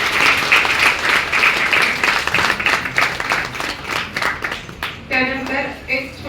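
Audience applause at a stage ceremony, dense sustained clapping from a crowd that thins toward the end as a voice begins over it.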